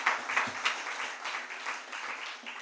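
Audience applause at a book launch, a moderate scattered clapping of a crowd indoors, heard fairly soft and steady across the whole moment without voices over it.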